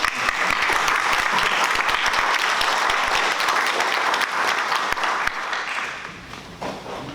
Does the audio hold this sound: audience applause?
yes